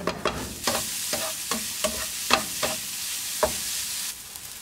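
Crumbled tofu fries and crisps toward golden brown in a pan, a loud close sizzle broken by about eight distinct stirring scrapes spaced unevenly, with no talking.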